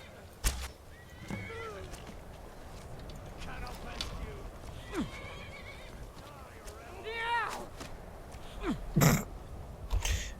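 A horse in Skyrim whinnies several times between clopping hooves and thuds amid battle, close and fairly loud, with a voice speaking over parts of it.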